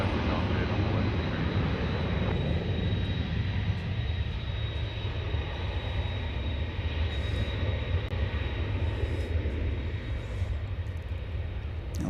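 A heavy Boeing jet takes off at DFW Airport, a loud, continuous engine roar with deep rumble that gradually thins and fades as the aircraft climbs away.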